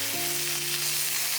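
Beef steaks hit hot oil in a pan over medium-high heat and sizzle steadily, a dense, close frying hiss with no talking.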